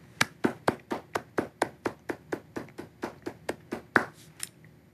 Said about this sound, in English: let's give a round of applause to all of our award winners and inductees this evening